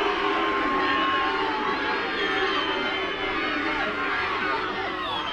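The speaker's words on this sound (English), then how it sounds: "You can hear the crowd." Spectators at an amateur rugby union match between St Austell and Wadebridge Camels, a steady wash of crowd noise and scattered cheering and shouting throughout, heard from some distance.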